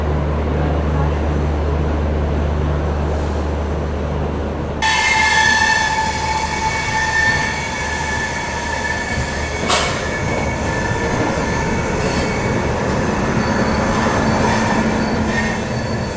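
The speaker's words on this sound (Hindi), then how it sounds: "Chennai central Bengaluru central west coast express Chennai central के प्लेटफॉर्म नंबर 8 से निकल चुकी है।" The West Coast Superfast Express pulls out of Chennai Central platform 8 with a steady rumble of wheels on track. A sudden louder metallic squeal joins about a third of the way in, and a brief sharp clank comes later.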